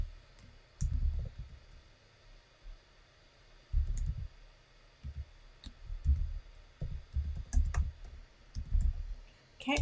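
Computer keyboard being typed on with soft, close clicks and low thumps in scattered clusters, including a Command L shortcut press, against quiet room noise.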